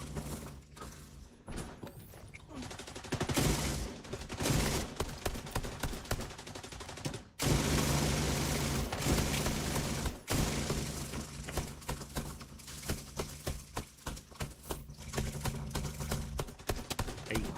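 Dense, sustained automatic gunfire from The Division 2 as a turret is shot, with rapid bursts running almost continuously and loud, broken by only a few short pauses.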